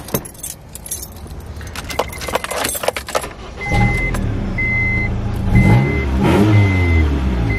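Keys jangle close by, then a car with a repaired catalytic converter, stolen and replaced, starts and idles steadily, its engine hum continuing under a repeating electronic warning chime.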